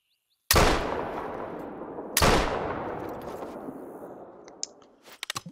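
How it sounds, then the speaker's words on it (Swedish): Two loud rifle shots in the hunting game theHunter: Call of the Wild, a couple of seconds apart, each followed by a long fading echo, then a few faint clicks at the end. "Vi sätter två skott ditåt."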